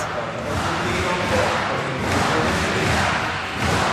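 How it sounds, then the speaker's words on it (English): A basketball arena crowd roars steadily during a Latvia versus Philippines national-team game, with a dense, sustained wash of cheering swelling in waves and commentary running over it. "He gets the crowd on their feet."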